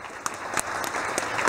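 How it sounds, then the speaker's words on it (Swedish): Warm audience applause at a talk in Uppsala, continuous close clapping with a few sharper claps standing out across the short stretch. "innan dess så hoppas jag på en varm applåd"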